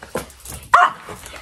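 A dog named Miko lets out two sharp barks, a shorter one early and a louder, fuller one midway, close by with quiet room tone between.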